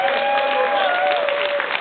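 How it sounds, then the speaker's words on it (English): Applause from a convention panel audience, steady and dense for under two seconds, with some voices and tonal sounds riding over the clapping. "Give this guy a round of applause."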